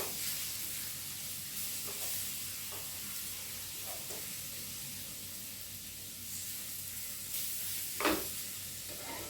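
Garam masala being stirred into a sizzling stuffed-capsicum filling in a pan, a steady hissing fry with a few soft spoon scrapes, moderately quiet and without talk.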